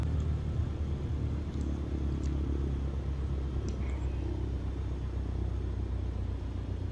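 Cessna 152 light aircraft rolling out on the runway after touchdown at Sedona, with a steady low engine rumble and road-like tyre noise running continuously and fairly loud throughout.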